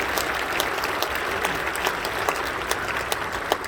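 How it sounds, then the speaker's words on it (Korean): Audience applause at an Easter dawn joint worship service, a steady, dense clapping of many hands throughout, fairly close and full, with scattered sharper claps standing out. "한번 박수 좀 해주시죠"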